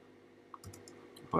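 A single X key pressed on a computer keyboard while editing in Photoshop, one short click followed by faint room noise and a louder knock at the end.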